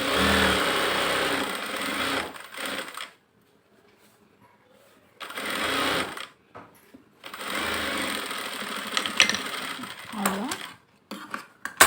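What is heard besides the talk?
sewing machine stitching a blouse sleeve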